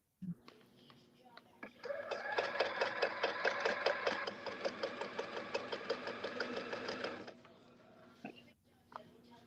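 Sewing machine running while project bags are stitched, a rapid rhythmic clatter that starts up, runs steadily for about five seconds and then stops. Faint room sounds precede and follow it.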